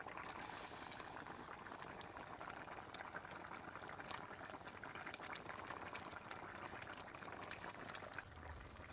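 Vegetable curry with ridge gourd bubbling in a pot, giving a faint, steady simmering burble with small pops throughout, with no voices.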